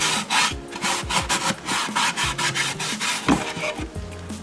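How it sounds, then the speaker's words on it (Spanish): A cloth rubs briskly back and forth over a wooden wine box to burnish it, giving a loud, close run of rhythmic scrubbing strokes with no talk. "con un paño como este, pero limpio, vamos a bruñir, que es decir, a frotar"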